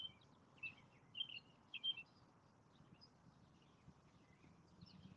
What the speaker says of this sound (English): I'm listening to the birds chirping.